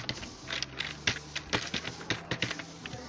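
Fingers typing HTML code on a computer keyboard, a steady run of close, clicking keystrokes in uneven bursts with no voices over them.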